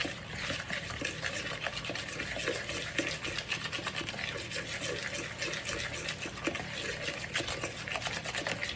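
Ground black pepper, panko and other spices being mixed together in a bowl for mini meatloaves, giving a steady, continuous scraping and swishing stir that runs throughout at moderate level with no talk.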